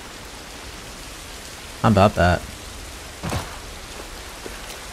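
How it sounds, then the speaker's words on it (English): Steady hiss of rain falling all around in The Last of Us Part 1, with a brief spoken phrase and another short voice breaking in over it. "This rain ain't gonna do us any good."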